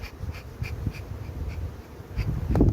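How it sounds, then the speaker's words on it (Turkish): Honey bees buzz around the entrance of a beehive during hive transfer, a steady low insect hum with several louder passes as individual bees fly close, swelling near the end. "dışarıdan gelen arıları görüyorsunuz değil mi? Bu kovana giriyor."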